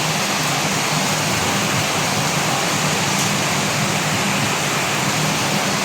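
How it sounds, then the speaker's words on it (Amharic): Heavy rain pours down in a steady, dense hiss that stays loud and unbroken from start to finish, with no voices over it. "አሁን ግን ተመልከቱ፣ ዝናብ ግን ወግዲ ነው።"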